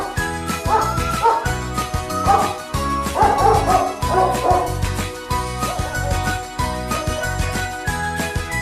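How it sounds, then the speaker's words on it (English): A dog barks in rapid repeated yips and bow-wows, loud and close, over a constant rhythmic musical backing with bright tinkling tones running throughout. "Dog."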